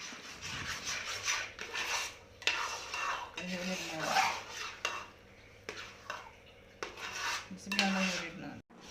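Jackfruit mixture for payasam is stirred in a pan, a steady scraping and clinking of a spoon against metal that repeats throughout, close and fairly quiet, with no talking.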